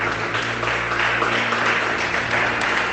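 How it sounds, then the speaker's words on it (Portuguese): A church congregation applauding, steady loud clapping that holds throughout at an even level without pause. "Você pode aplaudir Jesus"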